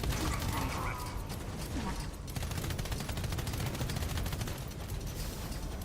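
Cannon fire in the strategy game Pax Autocratica: a dense, continuous barrage of rapid blasts and clattering impacts. It runs loud and unbroken throughout, with no talk over it.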